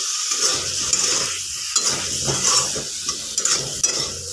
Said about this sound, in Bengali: এটা একটু নেড়ে নিচ্ছি